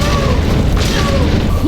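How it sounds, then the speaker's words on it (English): Big explosive boom attacks in the Silksong video game rumble loudly and continuously, a deep heavy roar layered with bursts and crashes, with no clear gaps between them. "it's really hard to get close due to the spamming big booms"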